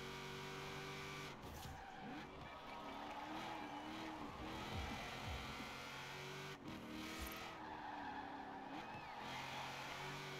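Car in Forza Horizon 4 with small front tires, A-class mixed-surface build, engine droning steadily with wavering pitch as tires squeal and skid through turns, continuous and fairly loud throughout.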